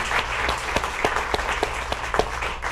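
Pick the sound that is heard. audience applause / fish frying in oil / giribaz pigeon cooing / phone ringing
audience applause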